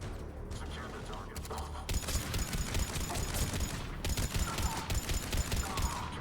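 Heavy gunfire in Mass Effect 3 as Cerberus forces attack, loud rapid bursts of automatic shots that pause briefly and resume, with talk partly underneath.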